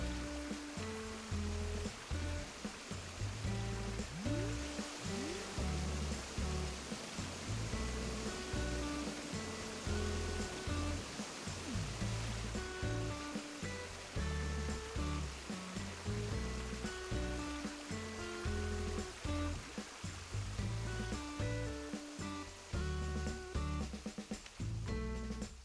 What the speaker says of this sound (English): Especially with the fountain right here and the waterfalls.